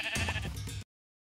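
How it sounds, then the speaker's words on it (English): A Minecraft sheep gives a short, close, wavering bleat, clear and alone, then stops abruptly into silence. "I just thought I'm gonna try and kill some sheep first"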